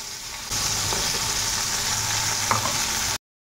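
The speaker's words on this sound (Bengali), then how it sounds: "এদিকে চারাপোনা মাছটা বসিয়ে দিলাম" Small carp fish (charapona) frying in hot oil: a loud, steady sizzle that jumps up after a quieter start, with a faint clink or two, then cuts off abruptly.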